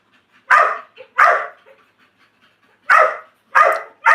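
A dog barks in short, loud bursts: two barks, a pause, then three more, with faint whimpering noises in between.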